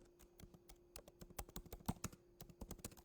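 Typing on a computer keyboard, quiet and close, in an irregular rhythm of light key clicks with a few slightly louder taps.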